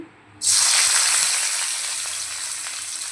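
A sudden loud sizzle bursts in as something hits hot oil, then settles into a steady, bright frying hiss that slowly fades a little.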